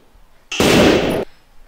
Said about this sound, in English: So we're gonna want a rifle sound.